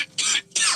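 Two harsh, close coughs from a person, each short and loud, separated by a brief pause.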